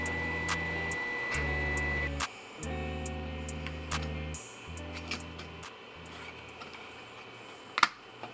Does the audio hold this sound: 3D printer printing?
yes